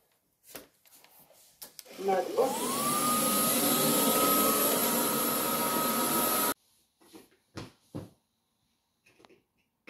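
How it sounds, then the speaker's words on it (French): A vacuum cleaner starts up with a rising whine and runs loudly for a few seconds before cutting off, with brief voices and thumps around it. "je vais passer l'aspirateur"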